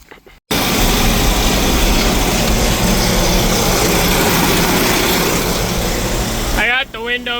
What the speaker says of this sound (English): And then we will start chopping our first load.